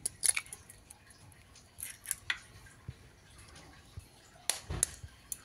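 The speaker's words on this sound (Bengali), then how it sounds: "এইভাবে প্রত্যেকটা ডিম ফাটিয়ে নেব" Eggs cracked one after another for an omelette, giving sharp, faint little snaps and clicks spaced irregularly in a quiet kitchen, with no talk.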